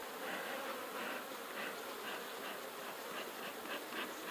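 Honey bees swarm around an open hive box, producing a constant dense buzz with faint pulsing swells. It sounds close and fairly quiet, with no talk.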